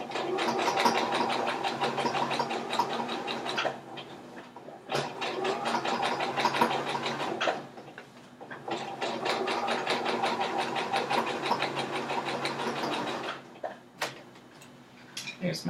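A sewing machine stitches the crotch seam of a garment, running in three long steady bursts of rapid mechanical whirring with brief pauses between, loud and close, ending in a few scattered clicks.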